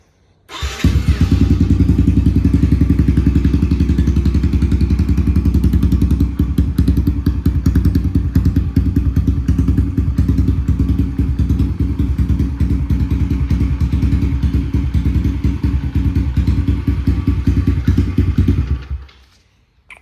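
A pit bike with an upgraded ignition coil fires up and runs, its small engine loud and close with a steady, fast-thumping idle for about eighteen seconds before cutting off.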